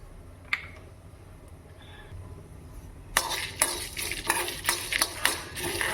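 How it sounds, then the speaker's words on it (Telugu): Dried red chillies and cumin fry in a pan, with quiet scraping and stirring that builds into a denser burst of rattling, clinking sizzle partway through, heard up close with no talk. "ఒక 2 నిమిషాలు ఎండుమిరపకాయలు వేగాక కాస్తంత జీలకర్ర 1 స్పూన్ దాకా వేసుకున్నాను"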